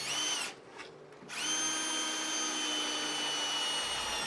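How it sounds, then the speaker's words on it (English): A power drill drives screws into pre-drilled pilot holes in purpleheart wood for a handrail build. It makes a loud, close, high whine that stops briefly after a short burst and then runs again steadily. "just placing those screws into the pilot holes that I already drilled"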